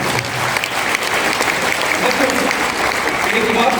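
An audience at a business motivational talk claps loudly and continuously, a dense rattle of many hands with voices mixed in beneath the applause.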